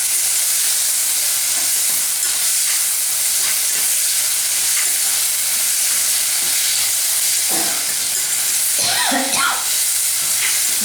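Chopped capsicum sautéing in a pan, a loud, steady hissing sizzle filling the whole stretch, with a few brief utensil scrapes and stirring clatters near the end.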